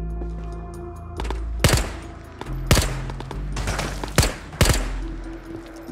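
PPSh submachine gunfire in the VR shooter Ghosts of Tabor rings out in several loud, sharp bursts over a low ambient hum, each burst cracking close by with short echoing tails.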